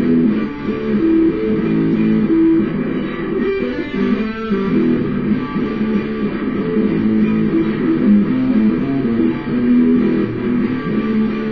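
An electric guitar plays the intro riff of a song, its steady, repeated chord pattern ringing on alone throughout at a fairly loud level, with no speech.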